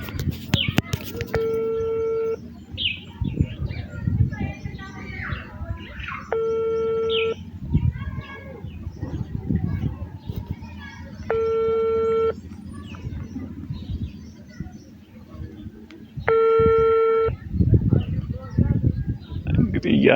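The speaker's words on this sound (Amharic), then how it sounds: "እየጠራ ነው ግን" A phone call rings out unanswered: four separate ringback tones come at a steady pace, each lasting about a second, over background room noise and faint voices.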